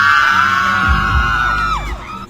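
A concert audience member screams during a performance, a sustained high shriek that slides downward near the end over crowd noise and low thumps.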